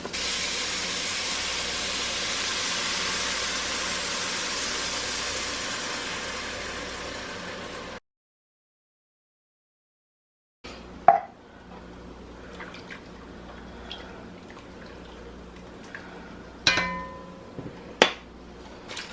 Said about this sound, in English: I am going to add in 3/4 of this box of chicken broth.